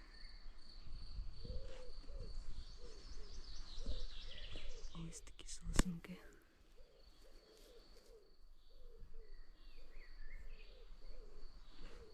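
A cuckoo calls over and over at a steady pace in a dry pine forest. The calls sound moderately distant, with insects buzzing and chirping throughout and a brief rustle partway through.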